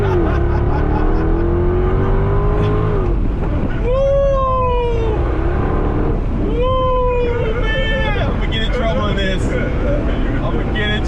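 A 2013 Jaguar XKR Special Edition engine revs hard in repeated bursts, its pitch sweeping upward each time over a constant roar of road and motor noise.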